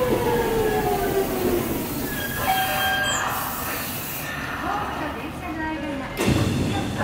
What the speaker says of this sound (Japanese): 3番ホーム到着の電車は急行西武新宿行きです。